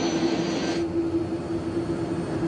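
An airplane in a drama scene, circling while airports close for weather, gives a steady, moderately loud engine roar that drones on without a break and with no voices.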